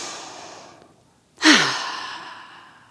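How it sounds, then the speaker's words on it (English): A deep, audible breath drawn in during a yoga session, rising suddenly after a brief hush and then trailing off slowly, close to the ear with no talking. "Take a deep breath in."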